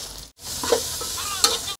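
Bitter gourd curry fries in a pan as a spoon stirs it, giving a soft steady sizzle with a few scraping clinks, brief and close.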